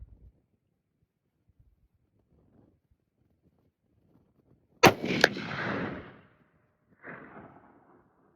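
A Christensen Evoke rifle in 7mm Remington Magnum fitted with a muzzle brake fires one sharp, very loud shot outdoors, followed by a rolling echo and a fainter distant report a couple of seconds later.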